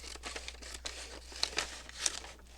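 Paper being cut with scissors, a series of short crisp snips and crinkles at close range, with no voices.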